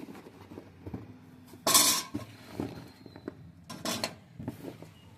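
Broken pieces of jaggery drop into a wok for coconut sweets, giving one loud close clattering rattle followed by a few lighter knocks and a second shorter clatter.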